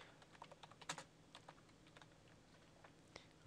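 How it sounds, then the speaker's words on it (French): Soft, quick keystrokes on a computer keyboard, faint and somewhat distant, forming an irregular run of clicks over a quiet background hiss. "On va bien sûr le taper."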